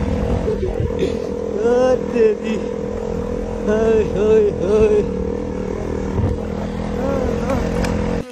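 Motorcycles run along a dusty off-road track with three bikes ahead, engines droning and revving close by, while a rider talks over the steady motor noise.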